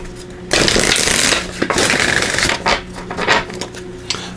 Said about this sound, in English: Just going to give these a good shuffle